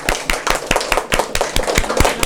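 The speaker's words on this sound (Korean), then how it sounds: "하나님께 영광의 박수 돌려드리겠습니다." A church congregation claps together in a steady run of sharp, closely spaced claps at a brisk, fairly even rhythm. No voices are heard over it.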